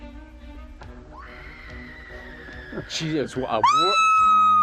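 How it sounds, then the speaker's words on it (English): A woman's horror-film scream from the 1985 film Re-Animator rises into a loud, sustained high-pitched shriek at the end, after earlier murmured voices and tonal background sound. "And then The scream."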